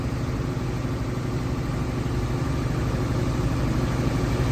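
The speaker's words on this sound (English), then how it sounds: "Pulling the 1086 up with the feed wagon." An International 1086 tractor pulling a feed wagon in low gear rumbles steadily at a slow idle-like pace, a continuous low engine drone heard close with no talking.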